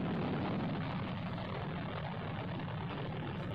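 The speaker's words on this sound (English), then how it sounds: "Reaction to plane taking off." A propeller airplane taking off, heard as a steady, fairly distant broadband engine roar with no voices.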